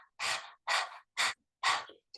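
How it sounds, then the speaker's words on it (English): Rapid, forceful panting breaths like a dog's, used as a lead-in to breath of fire yoga breathing: four loud, close, evenly spaced puffs of air with short silent gaps between them. "People often find it by starting with panting like a dog,"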